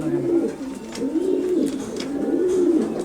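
White fancy pigeons coo close by, in soft low repeated rolling calls that carry on steadily with brief pauses.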